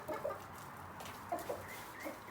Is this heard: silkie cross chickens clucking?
yes